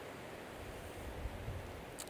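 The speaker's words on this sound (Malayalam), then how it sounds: "ഈ കാണുന്നത് ചന്ദ്ര റിവറാണ്" The Chandra river near Manali rushes steadily in a broad, even wash of flowing water, with some wind buffeting the microphone and no talking.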